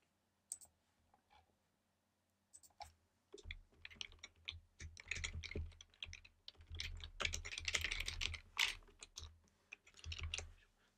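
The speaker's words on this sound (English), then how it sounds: "I'm just going to type this out and then we'll break it down." Code being typed on a computer keyboard: a few scattered clicks give way to fast, steady runs of close keystrokes with brief pauses, and no speech.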